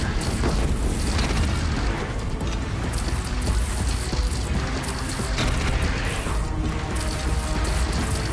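A powerful gun fires in the game Horizon, producing a dense, loud wall of booming blasts and crashing debris that rolls on continuously for several seconds without speech.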